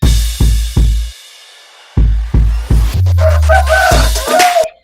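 Chickens at a poultry farm cluck and squawk loudly and close by, in a series of sharp bursts followed by a longer, harsher outburst of calls.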